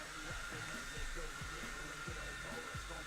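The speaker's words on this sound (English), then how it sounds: "I'm gonna take a break real quick while this hair dryer is going" A hair dryer runs continuously with a loud, even whooshing drone, while rhythmic low thumps pulse faintly underneath.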